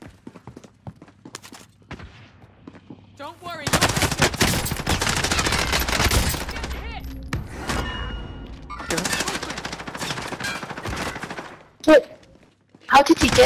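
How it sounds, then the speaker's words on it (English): Rapid bursts of automatic gunfire in a video game, loud crackling volleys coming in clusters with short gaps and a few single shots, while a player talks now and then. "Oh, I'm getting sniped."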